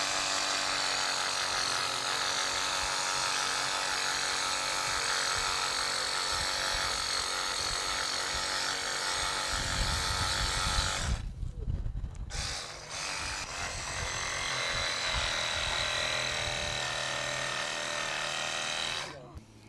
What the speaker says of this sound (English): take the Sawzall, reciprocating saw, and cut that tailbone